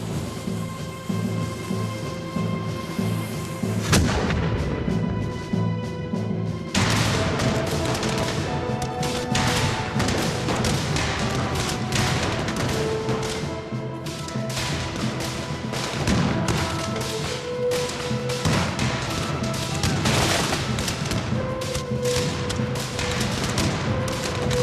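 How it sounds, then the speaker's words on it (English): Gunfire from the land side during the Battle of New Orleans, 1815: dense, continuous volleys of musket and cannon fire with booms and crashes, loud and sustained, layered over a steady musical score. "they find that there's some firing coming from the land side"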